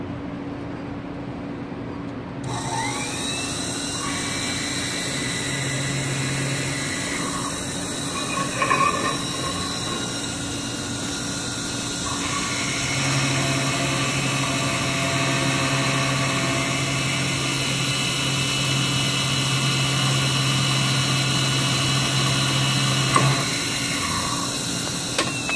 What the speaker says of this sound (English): We take it over to the micro drill press.